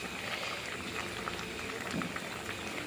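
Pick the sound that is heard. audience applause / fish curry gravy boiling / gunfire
fish curry gravy boiling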